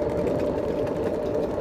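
A homemade apple grinder drum set with 90 stainless steel screws spins at about 500 RPM, giving a loud, steady motorized whir with a rapid, dense rattling texture close by.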